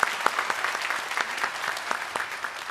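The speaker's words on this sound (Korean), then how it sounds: "우리 박수로 환영하도록 하겠습니다" Congregation applauding to welcome visitors during a Korean church worship service, a steady wash of many hands clapping at moderate level, with a few sharper claps standing out and no talk.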